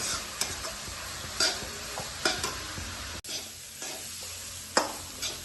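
Grated coconut fries with a soft sizzle, scraping and stirring clatter from a pan, a few sharper utensil knocks punctuating the steady crackle.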